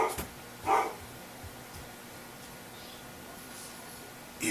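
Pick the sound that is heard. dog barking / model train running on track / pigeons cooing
dog barking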